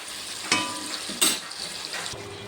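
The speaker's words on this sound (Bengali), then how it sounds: "টমেটোটাও গলে গেছে, ভালো করে কষিয়ে নেব।" Potatoes and tomato fry in a pan with a steady sizzle while being stirred, two sharp scraping strokes of the spoon standing out against the continuous frying hiss.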